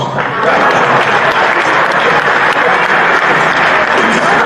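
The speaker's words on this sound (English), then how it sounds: "Clap for us." A crowd applauds continuously and loudly, a dense steady clapping that fills the whole stretch without letting up.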